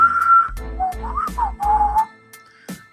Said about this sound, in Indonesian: Di belakang, didengarnya Wiro Sableng mulai bersiul-siul seenaknya.